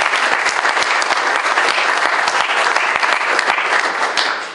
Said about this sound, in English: If we give them a round of applause, please.